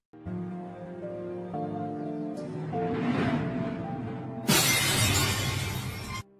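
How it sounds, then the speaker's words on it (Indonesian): A glass photo frame is dropped and shatters in a Korean drama scene; after sustained music, a loud, sudden crash of breaking glass bursts out and rings briefly over the score. "sengaja menjatuhkannya sehingga bingkai foto istrinya pecah berkeping-keping"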